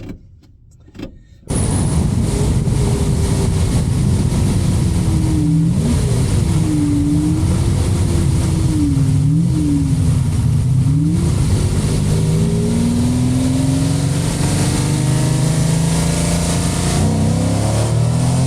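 A 1988.5 Lamborghini Countach engine drones loud and steady from inside the moving car, pitch climbing and dipping with gear changes and revs, after a brief quiet start.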